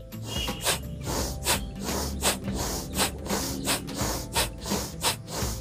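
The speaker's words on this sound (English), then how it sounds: "There should be a force when you are exhaling," Forceful rhythmic exhalations during a pranayama breathing exercise, sharp nasal bursts about every half second, close and loud, with no talking.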